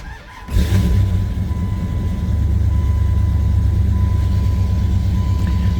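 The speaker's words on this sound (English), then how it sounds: "Okay, now this is the cold start." A 1999 Dodge Durango Shelby SP360 engine with an injector-wire misfire makes a cold start. It is quiet for about half a second, then the engine catches and settles into a loud, steady, low idle rumble with no talking.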